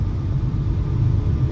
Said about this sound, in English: There's just a train going along the train tracks.